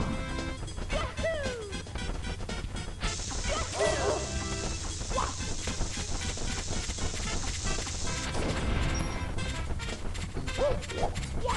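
A dog barks and yips repeatedly amid crashes and thuds, with game-like sound effects and occasional voices layered throughout, in Super Mario 64.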